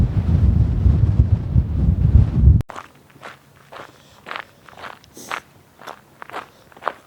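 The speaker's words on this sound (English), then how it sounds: "still windy." Strong Scottish Highlands wind near Fort William roars loudly against the microphone for a couple of seconds, then gives way to a quieter stretch of steady footsteps along a trail.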